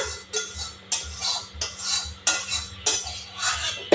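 Singhi fish curry being poured and scraped out of a metal pan, a steady series of sharp clinks and scrapes of a utensil against the pan, close and fairly loud, repeating every half second or so with no talking.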